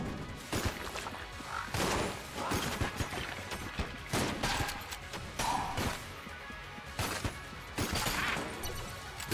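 Gunfire from the Icebreaker gun in the video game Enter the Gungeon, boosted by fat bullets: dense bursts of loud, crashing shots that keep returning over nine seconds, with short gaps between volleys and game effects mixed in.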